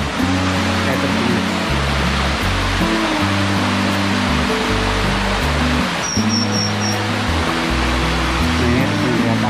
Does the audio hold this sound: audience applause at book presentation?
no